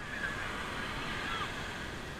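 Beach ambience with waves: a broad, continuous wash of surf and breeze holds steady and fairly loud, with no distinct individual wave breaks and no voices.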